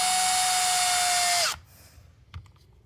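A Milwaukee 3450-20 sub-compact hex driver whines steadily and loudly for about a second and a half while driving a screw, then spins down and stops, followed by a faint bump.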